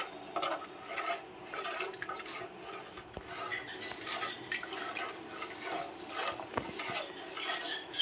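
Chhana being stirred slowly in thick milk in a pan as water is added bit by bit, with soft scraping and light clinks of a spoon against metal, quiet and uneven, with faint liquid sounds.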